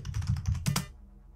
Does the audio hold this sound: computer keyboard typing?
yes